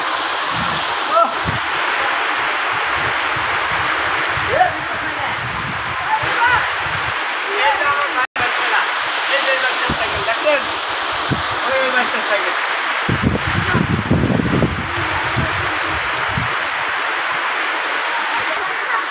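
Heavy rain pours steadily outdoors where a group stands getting soaked beside a row of bicycles, a dense continuous wash of water with a few louder splashy bursts and brief gaps.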